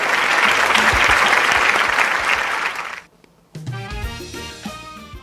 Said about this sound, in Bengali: স্যারের জন্য একটা জোরে হাততালি।